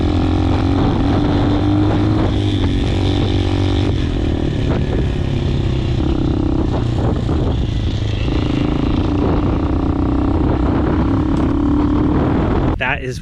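A Hawk 250 DLX motorcycle rides off-road on trails, its engine droning steadily and loud throughout with shifting pitch as the throttle changes, up close and continuous.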